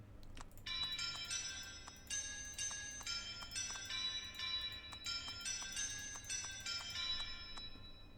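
Bright bells chime repeatedly in a video game demo, clusters of ringing tones in an uneven rhythm over a low steady background hum, clear and fairly loud with no talking.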